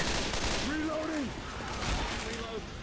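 Dense, continuous gunfire in the zombie shooter Left 4 Dead 2 on a mountain map, a steady roar of rapid shots with faint voices and whooping tones over it.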